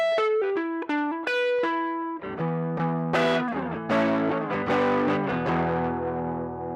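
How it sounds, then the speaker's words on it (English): Electric guitar through a homemade mu-drive overdrive pedal, with clipping diodes on the second transistor's gate, playing plucked single notes, then ringing chords, alone with an amp-like crunch and sustain. "This almost sounds like a vintage overdriven orange amplifier."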